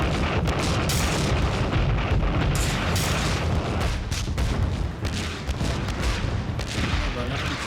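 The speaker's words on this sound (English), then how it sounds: "The artillery started falling on Hoshnia." Artillery shells falling and exploding across the village of Hoshnia in wartime, a dense, continuous barrage of loud booms and rumbling blasts with almost no gaps, heavy and close throughout.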